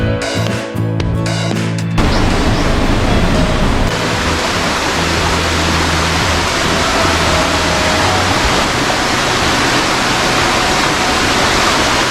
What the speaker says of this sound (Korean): 사방댐을 만들어 놓은 곳에서 폭포가 아주 멋있네요.